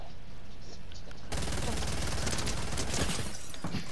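Minigun fire in Fortnite, a sudden unbroken spray of rapid shots that starts abruptly and roars on loud and close to the end.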